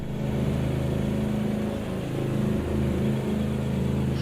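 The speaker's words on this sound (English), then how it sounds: "Oh, this car sounds nice." A steady, droning race car engine in the RaceRoom racing game hums continuously at even volume, with a faint rise in revs midway and no voices.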